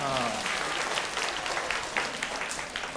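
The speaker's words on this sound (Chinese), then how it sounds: "来为自己拍手一下，" A church congregation at a Sunday worship service claps for themselves, a dense, steady burst of many hands applauding together throughout, with a faint murmur of voices mixed in.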